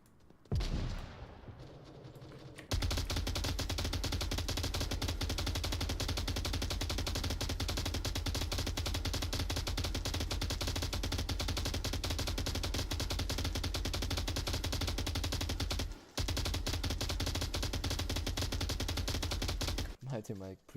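Sustained, loud automatic gunfire from the VR shooter Onward during a competitive VRML match, near-continuous bursts filling nearly twenty seconds with one short break, a commentator voice faintly beneath.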